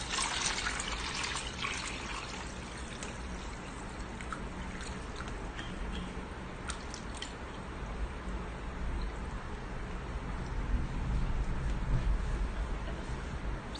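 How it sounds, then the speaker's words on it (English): Water pours steadily into a soft silicone soap mold braced with wood, a continuous close trickle and splash that holds throughout and grows slightly fuller near the end. "So you pour water to get the grams."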